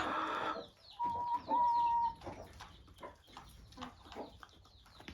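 Hens cluck in a coop where chicks have just hatched, giving a mix of near clucks and short calls with a sustained tonal note early on. Chicks are faintly audible in the background.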